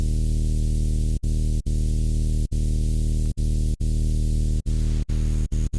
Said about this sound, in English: We're just adding a little bit of distortion on top.